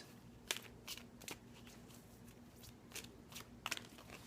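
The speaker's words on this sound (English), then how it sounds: "My shuffling's getting a little rough tonight." Tarot cards are shuffled in quick, soft riffling bursts, close and quiet, with short pauses between each shuffle.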